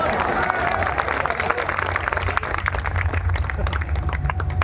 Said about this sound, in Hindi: बात पहुंच जाए तो तालियां उठाना।